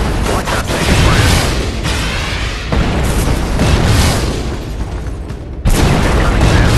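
Incoming SAM missile fire in the combat video game Shadow Strike, a loud sustained roar of booming blasts with a few sharp bursts and a sudden cut near the end.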